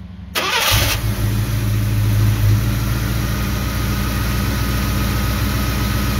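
A 1978 International Scout Traveler, custom restored, cranks and catches within a second, then settles into a loud, steady running rumble that carries on close by with no talking.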